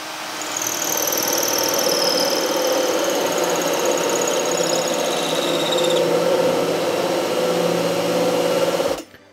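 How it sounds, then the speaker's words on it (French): A cordless drill-driver spins a hole saw through wood, giving a steady loud grinding whine with high squealing overtones that runs for about nine seconds, then cuts off abruptly at the end. "là, c'est la perceuse visseuse qui n'a pas évidemment la même puissance que la perceuse"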